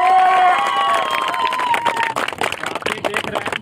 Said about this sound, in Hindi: जितने सारे लोग देख रहे हैं एक बार जोरदार पांचों पांडवों के लिए ताली बजाएं।